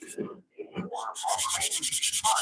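Wood being sanded by hand in a wood shop, quiet scratchy rubbing that starts in short separate strokes and then becomes a quick rhythmic series of strokes.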